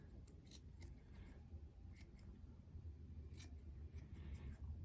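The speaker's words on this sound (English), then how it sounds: "You know, a good pair of really sharp scissors." Quiet, repeated snipping of sharp scissors cutting soft fly-tying material, crisp little clicks spaced irregularly over a low background hum.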